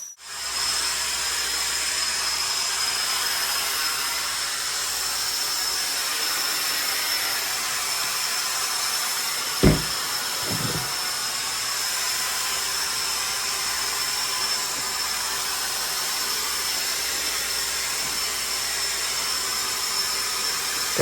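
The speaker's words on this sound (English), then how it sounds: "make sure you do a dry vacuum" Vacuum cleaner running during dry vacuuming of upholstery, a pet-soiled couch, ahead of cleaning; a loud, steady hissing whine holds without pause for the full stretch, broken only by a couple of brief knocks near the middle.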